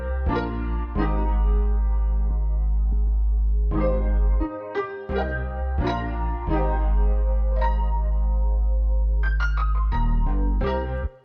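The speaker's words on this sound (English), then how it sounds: "to finish off the loop, we've just added this hard bass" A hard, deep double-bass synth preset plays a looping bass line in an RnB beat, following root notes and climbing a scale at the end, with steady sustained low notes and short gaps, loud and up front.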